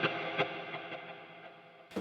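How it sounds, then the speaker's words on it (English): A short overdriven electric guitar lead from a Line 6 Helix, run through quarter-note and dotted-eighth delay and a big reverb, plays repeated notes whose echoes ring out, fairly quiet and without voices. "I'm using quarter note and dotted 8th note delay and bigger reverb, so it sounds like this."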